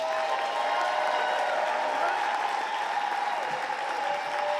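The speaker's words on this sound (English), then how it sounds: "please give a round of applause for Chrissy" An audience at a Moth storytelling showcase gives a dense, sustained round of applause for the closing storyteller, steady throughout with faint cheering mixed in.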